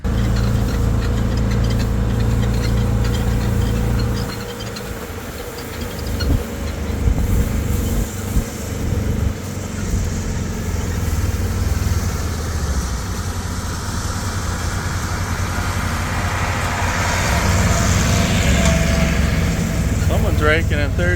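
A tractor engine raking alfalfa in third gear high hums steadily and loudly, a continuous low drone with rattling machinery that dips briefly and then rises again, with faint voices at times.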